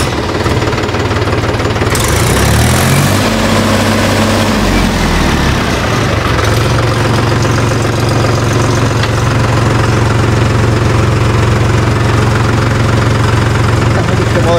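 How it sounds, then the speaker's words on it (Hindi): A Mahindra tractor diesel engine, a 265DI or 275DI XP Plus, runs loud and close with a knocking, vibrating idle, rising and dipping briefly before settling into a steady throb. "मैं इसकी आवाज़ सुनवाता हूँ ट्रैक्टर की"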